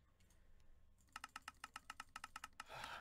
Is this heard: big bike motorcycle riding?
no